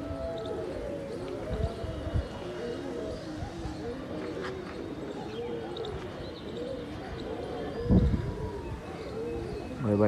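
Several pigeons, fighting pigeons, cooing close by, their soft repeated rolling coos overlapping steadily for about ten seconds, with occasional wing flutters or bumps among them.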